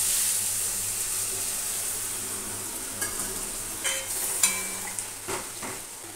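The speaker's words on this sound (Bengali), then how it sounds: "এই ঝোল দিয়ে দিচ্ছি" Hot water is poured into a frying fish masala for a bhola fish jhal, with a steady sizzle joined by several clinks and splashy bursts from the pan toward the end.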